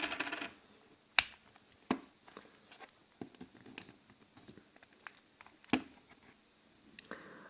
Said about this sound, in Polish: I teraz podwadzamy tutaj naszą obudowę.